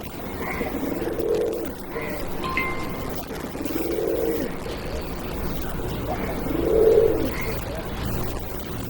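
Pigeons coo nearby at a pigeon auction in Bangladesh, three low throaty calls spaced a few seconds apart over a steady background murmur.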